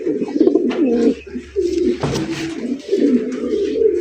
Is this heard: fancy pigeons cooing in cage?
yes